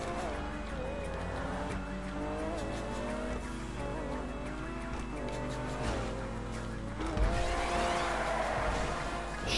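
A car drives and skids through a GTA 5 Online session on PS4, with a steady engine drone and tire squeal throughout and a louder skid burst near the end.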